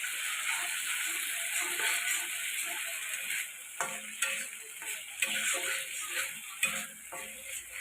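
Pointed gourd cooking in a pan with peanut and lentil paste, a soft steady sizzle broken by repeated spatula clicks and taps as it is stirred, close and fairly quiet.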